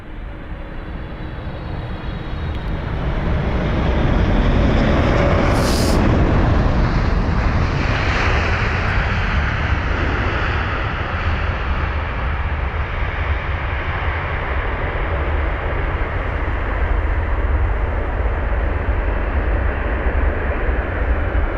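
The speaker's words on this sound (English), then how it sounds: "we have got flight number AA56 for the American Airlines 777-300ER" An American Airlines Boeing 777-300ER jet at London Heathrow gives a loud, steady broadband roar that swells and then holds for about twenty seconds, heard from a distance outdoors with some wind noise.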